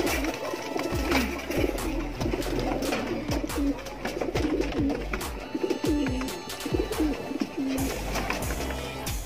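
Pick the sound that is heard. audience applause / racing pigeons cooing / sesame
racing pigeons cooing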